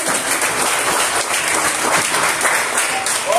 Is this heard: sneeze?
no